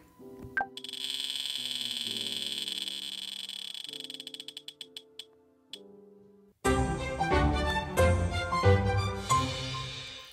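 Rapid electronic clicking tones from an online spinning-wheel website that slow down and stop like a spinning wheel, then a burst of cheerful music starts abruptly.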